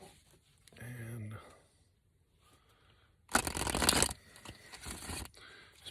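Oracle cards being shuffled by hand, a loud riffling burst near the end followed by softer shuffling, with a voice speaking briefly beforehand.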